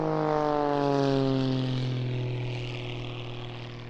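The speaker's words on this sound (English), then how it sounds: "You will see the full package of aerobatics here in Richard's hands." A propeller aerobatic display plane climbs at the Eastbourne International Airshow, its loud droning engine note dropping in pitch as it pulls away and slowly fades.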